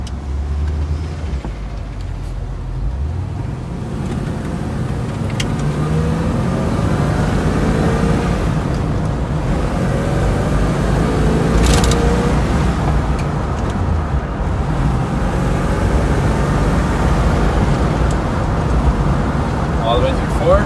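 A 1969 Chevrolet Corvette convertible drives steadily, engine droning loud and continuous as it shifts through gears, with wind and road noise around it and a person talking over it.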